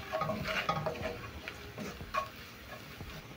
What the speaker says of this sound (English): Stir in the all-purpose into the onions and let it cook for around 1 minute